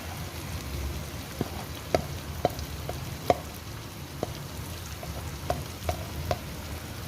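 Goat brains (maghaz) fry in a pan of masala with a steady, close sizzle broken by scattered sharp pops and crackles, no voices.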